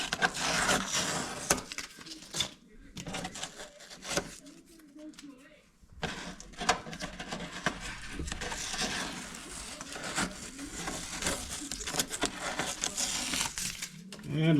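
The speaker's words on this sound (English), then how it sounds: "Now, we're going to pull this tape off." Protective tape being peeled off a newly installed fan casing, giving a close, rough crinkling and tearing noise that comes in bursts, with brief silent gaps and someone talking over parts of it.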